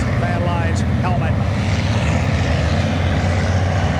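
A vintage Atlas Van Lines unlimited hydroplane racing boat pulls away from the dock, its engine a loud, steady roar that fills the whole stretch without pause.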